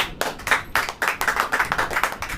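A church congregation clapping hands together in a steady, lively rhythm during a sermon, loud and sustained with no talking.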